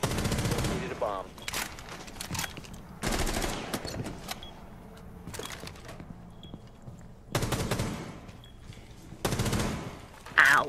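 Rapid automatic gunfire in Rainbow Six Siege, arriving in several loud, dense bursts separated by quieter gaps, with a few faint sounds in between.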